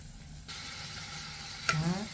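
Chicken liver drops into a hot pan, seasoned with Himalayan salt and rosemary, and sizzles steadily, with a sharp crackling burst as it hits the oil.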